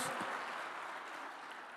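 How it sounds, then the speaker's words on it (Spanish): Applause from a church congregation during a Spanish-language sermon, a dense steady patter of many hands that starts fuller and thins slightly toward the end, heard alone at moderate distance. "Dale un fuerte aplauso a Él."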